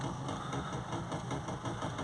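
A Land Rover Discovery Sport 2.0 engine, with a blocked AdBlue injector and clogged DPF, idles with a steady, low rumbling drone and faint vibration, running continuously and close by.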